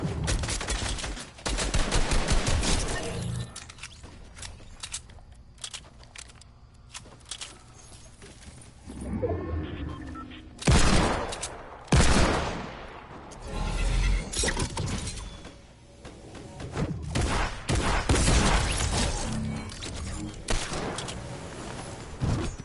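Bursts of SMG gunfire in Fortnite Season 10, with crashing impacts and scattered shots; loud, irregular rapid volleys with pauses between them, no talk.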